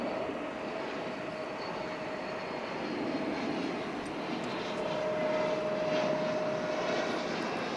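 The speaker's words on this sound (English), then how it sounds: "This was a 9-year-old Airbus A380." A nine-year-old Airbus A380 jet departs Dallas/Fort Worth Airport, heard as a steady, broad engine roar that stays loud and even throughout with a faint whining tone running through it.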